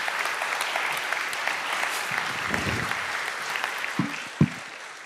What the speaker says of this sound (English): So let's give her a round of applause as she comes up.